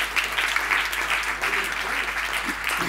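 Steady applause from an audience at a conference on solidarity agriculture and land ownership, dense and even throughout with no pauses, loud and close.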